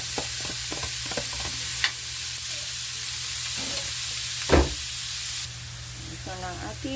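Ground meat (giniling) frying in a pan, a steady low sizzle with occasional scraping and clinking as it is stirred, quiet and close, with brief bits of talk.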